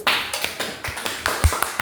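A few people clap briefly during an Indonesian teacher-training podcast, Khadijah Ceria, from PPG Prajab PGSD UNUSA. The claps are close, sharp and irregular, lasting under two seconds, with no talking.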